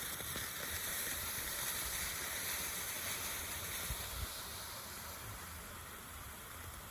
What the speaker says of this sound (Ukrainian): І вода закипіла у нас